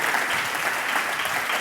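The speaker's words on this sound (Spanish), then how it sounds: "¿Cuánto le dan un aplauso a Jesús por eso?" A church congregation claps for Jesus during a sermon, with dense, steady applause filling the room at an even loudness throughout the short burst.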